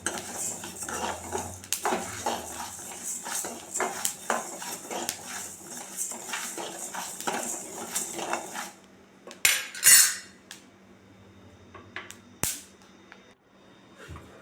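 A spoon scrapes and clinks against a pan in quick repeated strokes as dry black gram is roasted and stirred, followed by a few sharper clatters and quieter pauses.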